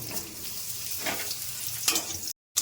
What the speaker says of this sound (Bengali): আলু আর পটলটা ভেজে নিচ্ছি।